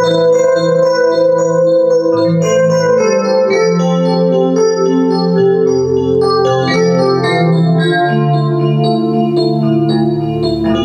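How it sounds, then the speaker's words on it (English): An electric piano voice on a Yamaha NU1X digital piano plays a loud, continuous passage of rich, bell-like chords and melody for about eleven seconds, with no talking. "This is an electric piano."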